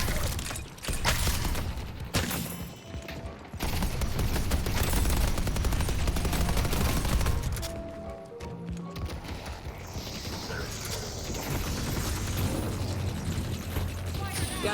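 Automated turrets fire in a video game, a loud, sustained rattle of rapid gunfire and booming impacts with brief lulls, dense and close throughout.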